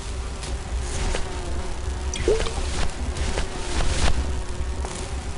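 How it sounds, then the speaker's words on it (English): A bee character in the Grim Fandango video game, a steady insect-like buzz with faint clicks and pulses over a low background drone, moderately loud and without talk. "I'm just a dumb, hungry, out-of-work bee"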